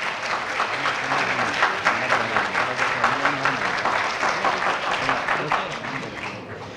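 An audience applauds steadily at a cultural society book event, a dense, even wash of many hands clapping that holds for several seconds and fades slightly at the end.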